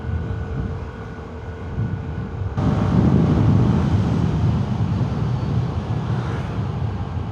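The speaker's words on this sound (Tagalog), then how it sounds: "Sarap ng hangin." Steady wind roars past while riding a motorbike, a broad rushing noise that swells louder partway through and stays strong to the end, with no talking.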